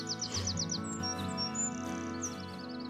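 A nightingale sings at a nature park in Thurrock, Essex, giving quick repeated chirps and whistled phrases against a steady background hum, with no talking.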